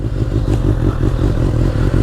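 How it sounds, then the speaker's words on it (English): A Kawasaki ZX6R sport bike is being ridden, its engine a loud, close, pulsing drone with steady rhythmic firing and some rattling clatter, holding an even pitch throughout. "But when you're riding the motorcycle, you're not going to look any different."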